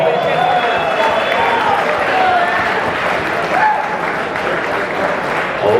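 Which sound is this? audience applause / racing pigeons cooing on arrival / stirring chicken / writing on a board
audience applause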